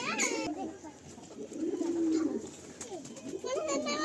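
Pigeons in a full loft at Garia coo in repeated low, rolling calls close by, with a voice talking over them.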